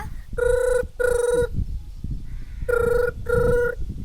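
Phone ringback tone after a call is dialed, loud and close, sounding as two pairs of short double rings separated by a pause, with faint background noise between them.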